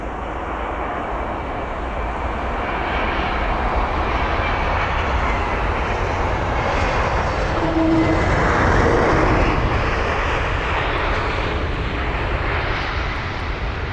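A jet airliner departing London Heathrow roars steadily at moderate distance, a broad continuous engine rumble that swells slightly midway and holds without speech.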